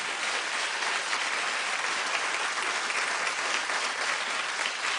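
A large studio audience on The Wendy Williams Show applauds steadily and loudly, dense clapping filling the whole stretch without pause or voices.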